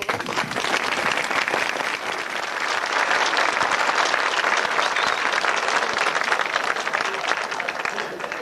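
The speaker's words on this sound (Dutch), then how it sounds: "U zou ons een groot plezier doen, moest u eens even in de handen klappen" A live audience at a 1990s Flemish TV comedy recording claps in unison on request, a dense, loud, steady wash of applause that holds without pause.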